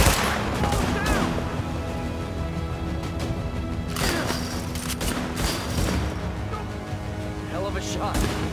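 Gunfire in the video game Tom Clancy's The Division: repeated bursts of shots and booms, dense in places, mixed with people talking.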